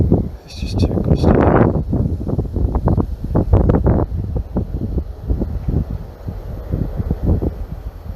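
Gusty outdoor wind buffets a drone pilot's microphone in loud, uneven low rumbling bursts that rise and fall throughout.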